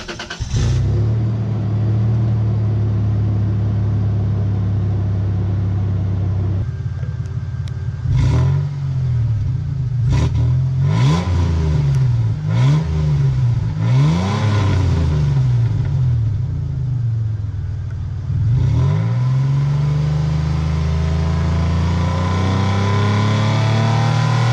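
A Toyota Tacoma 3.4 V6 with a stock exhaust and its stock muffler removed idles with a deep rumble, then revs repeatedly in a series of rising and falling bursts before settling back to idle, loud and close.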